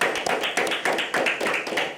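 A few people clap by hand in a podcast setting, brief regular claps close to the microphone, about eight in two seconds.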